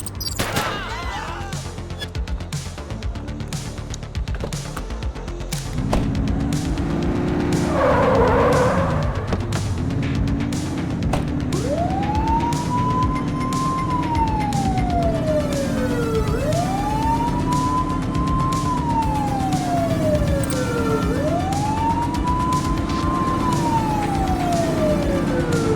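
Police car sirens wail loudly and repeatedly over steady engine and traffic noise during a car chase in the police video game The Precinct, with rising and falling siren sweeps close by.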